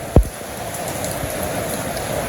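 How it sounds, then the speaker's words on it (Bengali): Steady village rainfall on a day of rain after a hot spell, an even close hiss with one brief sharp knock near the start, no talking. "আজকে মোটামুটি সারাদিনই বৃষ্টি"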